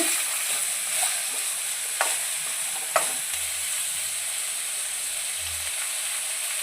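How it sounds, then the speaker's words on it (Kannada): Onions fry in hot oil in a pan for hotel-style potato palya, giving a loud, steady sizzle with a few sharp stirring clicks, and no talking. "ಆ ಈರುಳ್ಳಿನ ಹ್ಯಾಡ್ ಮಾಡಿ ಗೋಲ್ಡನ್ ಫ್ರೈ ಬರೋವರೆಗೂ ಗೋಲ್ಡನ್ ಕಲರ್ ಬರೋವರೆಗೂ ಫ್ರೈ ಮಾಡ್ಕೋಬೇಕಾಗುತ್ತೆ"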